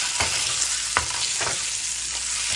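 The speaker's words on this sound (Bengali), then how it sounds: "ডিম একটু ভেজে নিলে ভালো লাগে" Eggs fry in hot oil with onion and chili, a steady loud sizzle broken by a few sharp scraping stirs of the spatula, close up with no talking.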